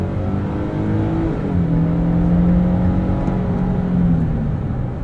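A 2023 Nissan Frontier Pro-4X 4x4 engine drones loudly and steadily from the cabin as it drives, its pitch dipping and then holding lower as it shifts down, with no voices over it.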